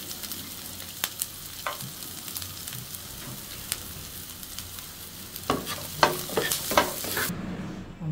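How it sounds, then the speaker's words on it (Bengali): Chopped onion and garlic fry together in a pan for a village-style Bangladeshi dish, giving a soft, steady sizzle up close. Occasional utensil taps and scrapes from stirring grow busier near the end. "পেঁয়াজ আর রসুন আমি একসাথে ভেজে নিব।"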